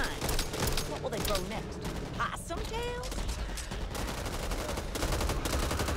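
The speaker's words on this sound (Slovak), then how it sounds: "strieľajú sa tu zombici a ešte dávajú vtipné hlášky" Rapid bursts of gunfire while shooting zombies in the Back 4 Blood co-op game, crackling shots layered over game chatter and effects, with a person speaking over the din.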